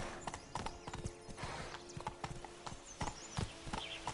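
Roach the horse trots in The Witcher 3, steady clip-clop hoofbeats close and clear over a soft ambient bed, with a faint whinny-like tone at times.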